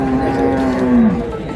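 A bull calf at a rural cattle market in Dinajpur lets out one long, loud, close moo that drops in pitch toward its end, with faint market murmur behind it.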